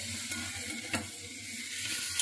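Boiled potatoes get stirred into a cooked spice masala in a pan, a low sizzle under a few scraping, clicking strokes of the spatula, close and fairly quiet, with no voices.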